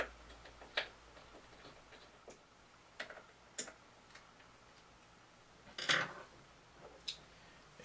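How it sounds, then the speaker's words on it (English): A hard drive is screwed into a Mac Pro, giving faint, scattered small metallic ticks and clicks with quiet gaps between them, with one louder scraping clatter partway through. "Just going to screw it in."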